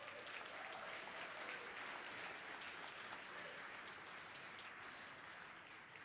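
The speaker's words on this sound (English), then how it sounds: "So I think they deserve a round of applause." An audience at the SuperValu TidyTowns Awards 2023 ceremony applauds a winning community group. A thick, even wash of clapping runs unbroken from start to finish, slightly softening toward the close.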